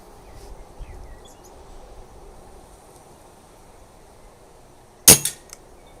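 A Kral Puncher Breaker Marine Mk2 air rifle fires a single 10.3 grain pellet: one sharp, loud crack close by, followed by a short ringing tail, in an otherwise quiet outdoor setting with faint background hum.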